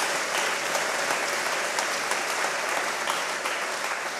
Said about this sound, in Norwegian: Gi en applaus.